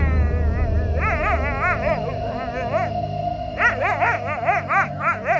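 Dogs bark and whine at night in repeated yelping bursts, a few close voices rising and falling in pitched whimpers over steady low background hum.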